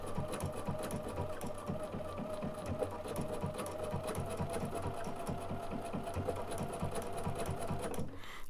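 Bernina sewing machine stitching with edge stitch foot #10, running continuously with a fast, steady mechanical whir and needle patter close by, then stopping abruptly at the end, with no speech.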